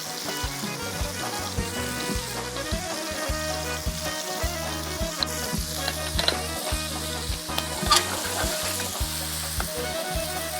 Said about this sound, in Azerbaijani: Tərəvəzləri yaxşıca tavada qızardırıq.